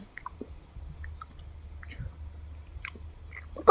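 Someone chews a corn snack filled with chocolate, close to the mic, with soft crunches and moist squishy bites spaced irregularly over quiet background hum.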